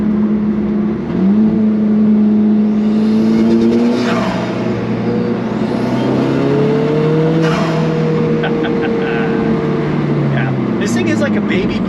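An Alfa Romeo 4C's turbocharged engine revving steadily while driving in manual mode, a loud, sustained in-cabin drone with rising and falling pitch sweeps as the car pulls through the gears.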